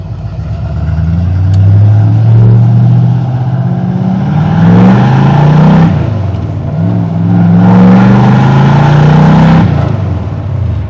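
A blue 1970 Ford Mustang Fastback engine while driving, pulling away in first gear: loud, rumbling mid-range drone that rises in pitch through two revving surges, easing between them, with no talk.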